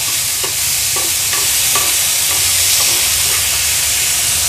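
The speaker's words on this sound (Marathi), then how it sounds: "मटकी ॲड केल्यानंतर थोडीशी परतून घ्यायची आहे आपल्याला।" Moth beans (matki) are sautéed in a hot pan for misal, a loud, steady sizzle with repeated scraping stirs of a spoon at close range.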